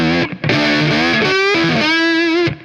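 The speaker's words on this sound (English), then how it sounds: "It's got Righteous Sound pickups in it, and I'm going through a Greer amplification Mini Chief." Lap steel guitar with Righteous Sound pickups played through a 3-watt Greer Mini Chief amplifier, gritty distorted sustained slides and bent notes, loud and close with a brief break, no talking.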